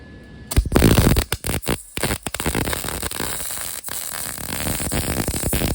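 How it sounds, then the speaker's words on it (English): Metal tie-down hooks being welded on, giving a loud, steady crackling hiss with sharp bursts and brief gaps as the arc starts and stops, heard up close with no talking. "I'm just gonna weld them on"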